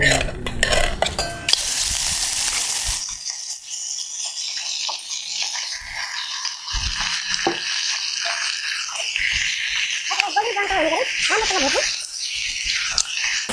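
Mutton pieces drop into a pan of browned whole garam masala, black cardamom, green cardamom and bay leaf, then fry with a steady close sizzle under stirring scrapes, while a person talks over the cooking.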